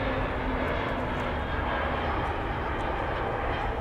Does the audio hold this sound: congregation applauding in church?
no